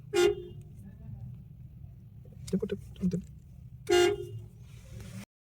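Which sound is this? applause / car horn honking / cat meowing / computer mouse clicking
car horn honking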